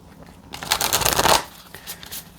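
A close, brisk shuffle of Wild Unknown Animal Spirit oracle cards: a dense rustling flurry lasting under a second, then fading to a few soft taps.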